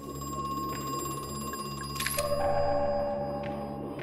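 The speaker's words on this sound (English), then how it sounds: "Phone's ringing again." A telephone rings in the video game Crow Country, a clear electronic trill that repeats in short bursts over a low steady ambient drone, with no talk.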